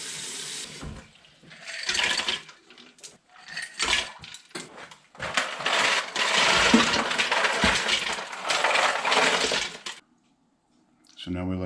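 Ice cubes clatter and splash into a sink or bowl of water with boiled potatoes for cooling, a busy rattling wash of tap water and knocking ice that ends in a short quiet gap.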